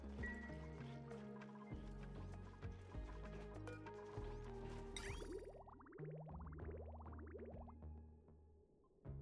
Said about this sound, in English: What's this bottle filler filling? Bottles of water occasionally.